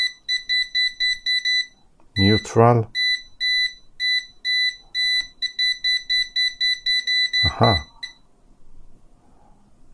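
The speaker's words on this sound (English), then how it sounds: "Do you see? It's a different beep sound." A UNI-T AC voltage detector gives a string of regular, sharp, high electronic beeps in a steady pulsing rhythm that stops near the end, while someone speaks briefly twice over it.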